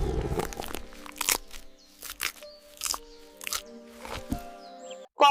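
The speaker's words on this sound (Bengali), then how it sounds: "শেয়াল জঙ্গলের মুরগি খেত।" A fox eating chicken is rendered as a cartoon crunching effect: a series of sharp, close bites and crunches at an uneven pace, separated by quiet gaps and a faint musical bed, ending in a loud final burst.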